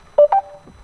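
The voice assistant in a 2020 Mercedes EQC answers activation with two quick, bright electronic tones in a rising pair, crisp and close inside the cabin, followed by a faint lower blip.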